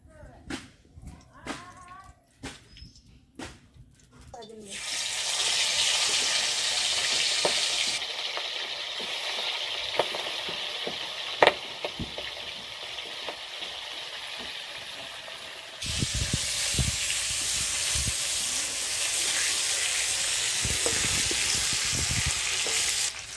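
Fish frying in oil in a wok for an ilish or prawn dish, a loud steady sizzle that begins after a few seconds of quieter kitchen sounds and fills the rest of the clip, with a brief stir or clatter now and then.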